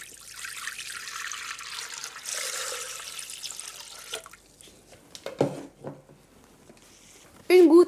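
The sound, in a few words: water poured into Thermomix TM7 bowl for cleaning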